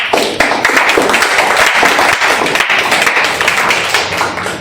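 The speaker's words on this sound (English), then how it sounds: "All the parents here deserve a huge round of applause for making it till here." An audience at a Toastmasters speech applauds the parents present, a loud, dense burst of clapping that holds steady throughout and stays close and full.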